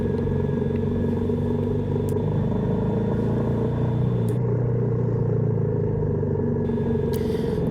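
A heavy motorcycle rides a very curvy mountain road near Chiang Mai in northern Thailand, its engine a steady close rumble with shifting pitch through the bends, accompanied by continuous wind and road noise and no talking.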